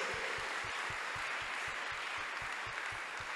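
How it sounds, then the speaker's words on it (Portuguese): A church congregation applauds in a dense, steady wash of clapping that holds at a constant level throughout, with a faint low rhythmic thump beneath it. "Aplaude mais forte."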